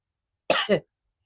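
A single close cough with two quick bursts, loud and rough, then silence.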